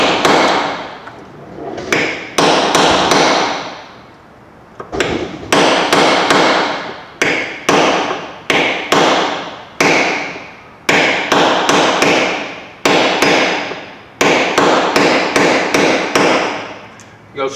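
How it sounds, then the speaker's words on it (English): Steady, heavy hammer blows strike a chisel to punch out a gimbal ring, landing in quick bursts of loud metallic impacts with brief pauses between groups. "you can take and punch it with a chisel between all the holes the best you can"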